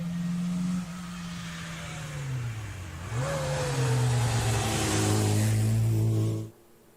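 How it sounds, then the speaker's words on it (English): An Austin Mini race car pulls away from a hillclimb start line, its engine revving hard through rising pitch and gear changes, loud and close before cutting off abruptly. "Car number 22, the Austin Mini"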